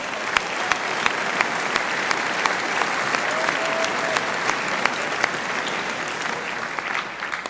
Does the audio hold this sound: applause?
yes